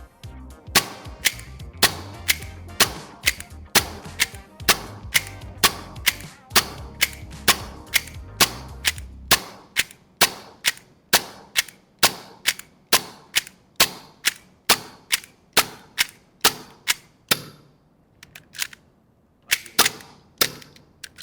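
A 1911 gas blowback airsoft pistol fitted with TTI parts fires a long steady string of sharp, loud cracks at close range, roughly one shot a second, each followed by a quick metallic slide clack.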